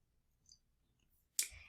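A computer mouse gives a faint click, then a sharper, louder click about a second later, in an otherwise quiet room.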